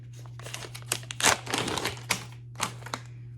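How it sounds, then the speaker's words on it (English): A plastic package holding a cartridge for a t:slim insulin pump is torn and crinkled open, giving a string of close, sharp crackles and rustles that peak midway, with a steady low hum underneath. "I'm gonna go ahead and open the package for the cartridge"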